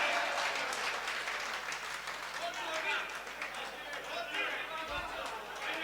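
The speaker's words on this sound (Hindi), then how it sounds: "तालियां कमजोर आ रही हैं, पूरे सदन की आनी चाहिए मेरे को।" Crowd at a live Hindi poetry gathering in Hamirgarh applauds steadily, a continuous wash of many hands clapping, with some crowd chatter mixed in.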